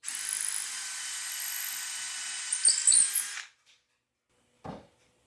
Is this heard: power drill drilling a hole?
yes